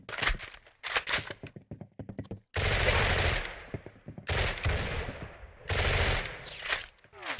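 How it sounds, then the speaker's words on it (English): Gunfire in a shooter video game, heard as rapid bursts and rattling volleys that alternate with brief quieter gaps. The shots come through loud and close, with no talk over them. "I'm hearing the gunshot."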